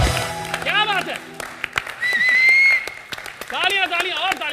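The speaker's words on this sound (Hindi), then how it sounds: "तालियां तालियां और तालियां" Studio audience applauding on a Hindi entertainment show, with bursts of clapping and cheering mixed with voices and music stings.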